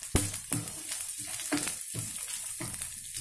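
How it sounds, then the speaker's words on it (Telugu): Coconut pieces and cashew nuts frying in a pan for a sweet pongal offering, a steady close sizzle broken by a few sharp stirring scrapes, with no talking. "కొబ్బరి వేగుతున్నాయి కదా, ఇప్పుడే మనం ఇది వేసుకోవాలి"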